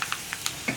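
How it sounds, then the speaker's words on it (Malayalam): Mustard seeds splutter in hot oil for an onion curry, giving a few sharp, separate pops over a soft continuous sizzle. "നമ്മുടെ കടുക് പൊട്ടുന്നുണ്ട്"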